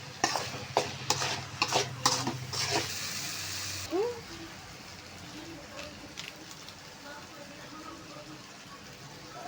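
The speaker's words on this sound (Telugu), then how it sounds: "ఇందులో తేమ లేకుండా బాగా వేయించాలన్నమాట" Half-boiled white moong dal is stir-fried on high heat for beerakaya rice, with several loud scraping stirs in the first four seconds followed by a quieter, steady sizzle and occasional faint clinks.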